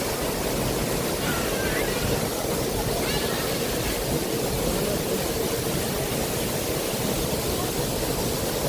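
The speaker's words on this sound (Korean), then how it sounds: "이렇게 물이 마르지 않고 계속적으로 폭포가 떨어집니다" Hongryong waterfall near Hongryongsa temple in Yangsan, South Korea, cascading in a steady, unbroken roar of falling water that fills the scene at an even, moderate level.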